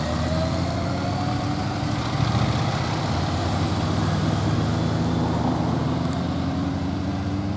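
Motorcycle engine running steadily during a riding drill on balance, chain tension and light throttle, with a continuous low droning rumble and only subtle swells from gentle throttle rather than sharp blips; no voices.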